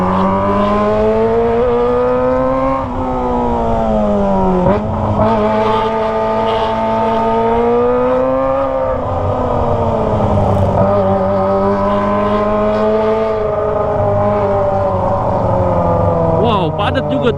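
A Kawasaki ZX25R motorcycle fitted with a Toce exhaust rides through heavy afternoon traffic, its high-revving four-cylinder wail rising and falling through repeated throttle sweeps, loud and close, with traffic noise around it.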